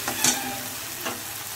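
Spice paste with ginger paste fries in oil, a steady close sizzle broken by two short scraping stirs, with no voices.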